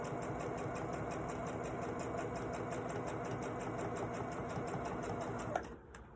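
A sewing machine runs a standard straight stitch on a cross-body bag, with a steady close-up whirring hum and rapid needle ticking that continues evenly before stopping abruptly near the end.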